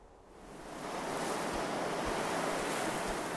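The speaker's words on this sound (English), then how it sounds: "Come on, gust of wind." A gust of wind swells up in Betrayer, rising from a soft hiss into a loud, broad rushing roar that holds steady with faint low thumps underneath.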